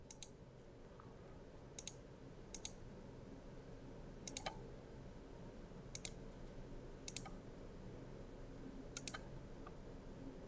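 Computer mouse clicks while working in bridge design software for modal and seismic analysis: sparse, quiet, close clicks, often in quick pairs, spread across a hushed room background.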